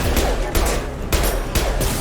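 Gunfire in Mass Effect, rapid bursts of shots in a rhythmic fusillade, roughly four heavy clusters spaced about half a second apart, loud and close.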